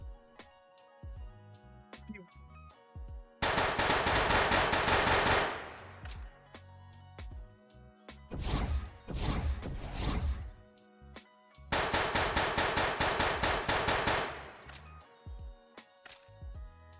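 Video game gunfire on a VR shooting range built in Unreal Engine 5: sparse single shots, then long rapid automatic bursts, with a quieter clattering stretch between.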